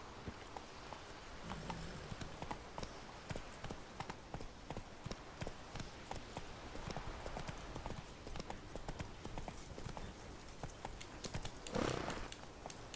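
Roach the horse galloping in The Witcher 3, quick rhythmic clip-clop hoofbeats over steady game ambience, with a brief whinny-like burst near the end.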